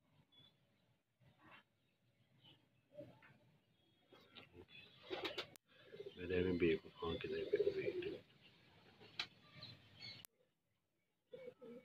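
Pigeons coo in soft, rounded bursts close by, with a louder flurry of cooing in the middle; faint rustles and quiet sounds fill the gaps.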